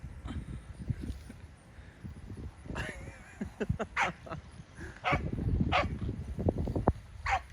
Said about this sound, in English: she's barking and herding it along